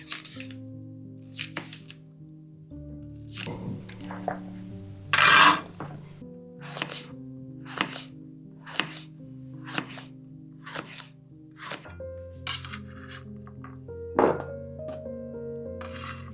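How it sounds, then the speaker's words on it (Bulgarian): A knife cuts one green and one red bell pepper into strips for a chicken and pork sač dish. Crisp, evenly spaced chops land over steady background music, with one louder stroke partway through. "Нарязвам ги на лентички."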